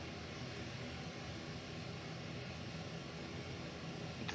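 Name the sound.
two aircraft flying alongside at air show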